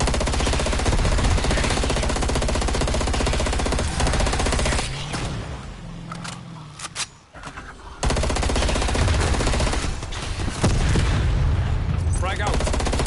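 Video game firefight with a thrown frag grenade: dense rapid machine-gun bursts and gunshots fill the scene, a brief lull with a muffled blast, then sustained heavy automatic fire resumes, loud and close.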